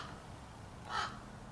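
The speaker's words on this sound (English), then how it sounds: "Mr. Crow agrees." A single crow caws once, clear but moderately distant, over a faint steady background hum in a workshop.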